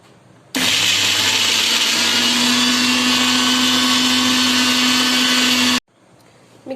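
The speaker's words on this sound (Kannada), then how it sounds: "ಉಂದೆಂತ ಮಿಕ್ಸಿ ಮಲ್ಪು" A kitchen mixer grinder runs at full speed grinding Bombay-style vada pav masala, a loud steady whirring drone that starts abruptly and runs about five seconds before cutting off.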